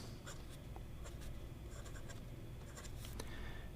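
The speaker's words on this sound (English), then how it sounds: "let's start with the writing sample" A blue ebonite Asvine C2000 fountain pen writing on paper, soft scratchy nib strokes and light taps over a quiet steady room hiss, close and faint, with no talking.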